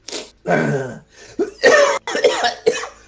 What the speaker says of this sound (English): he brings a kerchief up to his mouth, and as he coughs, blood is coming up